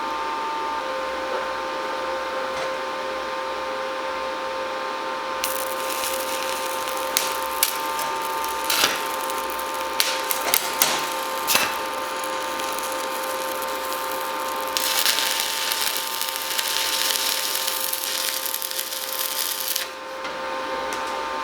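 A DekoPro stick welder on a 120-volt outlet, set to 65 amps, runs a 6013 electrode. The arc gives a loud, steady crackling hiss and sputter with sharp pops, rising and dropping in intensity over about twenty seconds.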